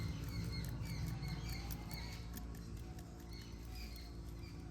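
Rice flour and maida are sifted through a sieve for pitha batter, giving a soft, rapid pattering and rustling with light rhythmic taps, close up and steady throughout.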